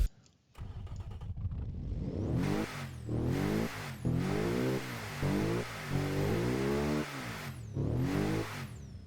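A drift car's boxer engine revs repeatedly in a garage, loud rising and falling blips in a rough rhythmic pattern with short drops between pulls, after a brief crank and start at the beginning.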